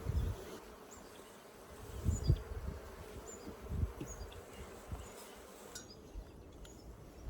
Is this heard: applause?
no